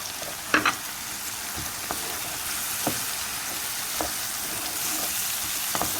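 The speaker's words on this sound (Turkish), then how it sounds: "İçine doğradığımız iki adet biberimizi atıyoruz ve karıştırıyoruz." Two chopped peppers sizzle and crackle steadily in a hot pan, with occasional scraping knocks as they are stirred; close, continuous, no voices.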